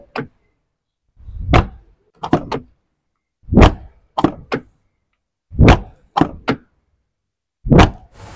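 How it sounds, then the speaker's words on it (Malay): A car door fitted with a rubber buffer shuts several times in a row, each close a short, solid, deep thunk heard up close, with brief quiet gaps between groups of closes. "Macam barulah tutup pintu tu macam kereta mewah kan."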